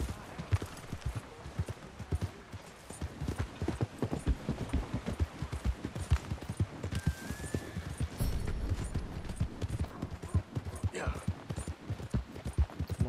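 Horse hooves clip-clopping in Red Dead Redemption 2, a steady rapid rhythm of close, loud hoofbeats at a trot or canter, with a brief whinny and some rustling mixed in.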